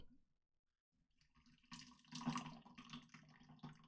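Boiling water from a kettle pours over green tea leaves, a soft splashing stream that starts after a second of near silence and grows into a steady, gurgling trickle, fairly faint.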